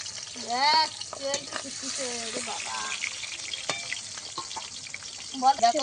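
Pangas fish sizzles as it fries in hot oil, a continuous close hiss and crackle running under a voice speaking Bengali throughout.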